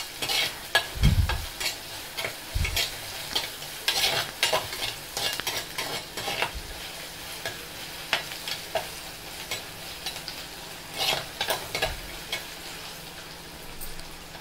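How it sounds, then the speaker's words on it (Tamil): Ginger sautéing in oil in a clay pot for Kerala-style prawn curry, with soft continuous sizzling, repeated scraping stirs and occasional low knocks of the utensil against the pot. "இப்போ நல்லா இதை நல்லா வதக்கிக்கணும்."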